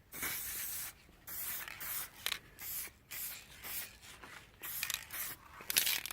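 Silver Montana spray paint hisses from a can in a series of short, close bursts separated by brief pauses, fairly quiet with no talking.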